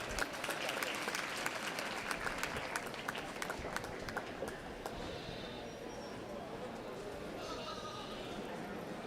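Faint audience applause in a youth goat show ring, dense scattered clapping that gradually thins, with goats bleating and hooves clattering in the background.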